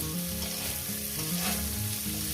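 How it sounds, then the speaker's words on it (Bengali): Fried mola fish crackles loudly in hot oil with chopped onion and green chili, a dense, close sizzle with a few stirring clunks and no talk. "পেঁয়াজ কুচিটা কাঁচা লঙ্কা কুচিটা দিয়ে দিলাম দিয়ে এটাকে আমি আরও ভাজব"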